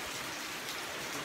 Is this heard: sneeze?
no